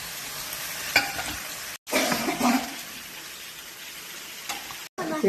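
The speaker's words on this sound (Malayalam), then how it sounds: "ഇത് ചിക്കൻ ബ്രസ്റ്റ് ചെറുതായിട്ട് അരിഞ്ഞതാണ് പാസ്തയ്ക്ക് ഇടുന്നെങ്കിൽ അത് ഇട്ട് ഇളക്കി" Chopped, precooked chicken breast is stirred into pasta in a hot pan, making a close sizzling hiss broken by scraping stirs and clinks, with two short silent breaks.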